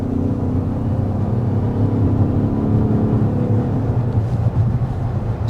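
A 2024 Lincoln Nautilus with a 2.0-liter turbo four-cylinder pulls through a steady rolling acceleration. A low engine drone and road rumble hold constant and loud, with no voices.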